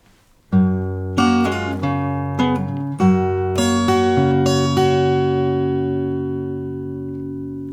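A short fingerpicked guitar phrase from a song: several plucked notes in a gentle rhythm, ending on a chord that rings out and slowly decays.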